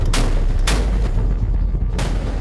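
A German Navy warship's deck gun fires live rounds during a gunnery exercise in international waters. Three loud, booming shots crack out about half a second to a second and a half apart, each trailing off into a rumbling echo.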